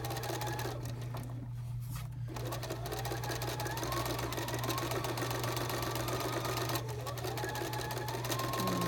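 A Bernina sewing machine stitching piping onto fabric runs with a steady, continuous mechanical whir and hum, close and loud throughout, with only brief dips in the motor sound.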